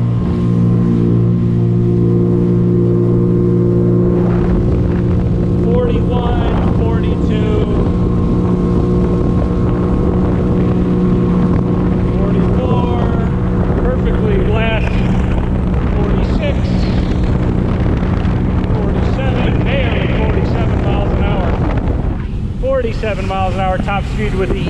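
Sea-Doo Spark Trixx jet ski at top speed on an E85 tune running rich: a loud, steady, close engine roar with wind buffeting that holds for the whole stretch.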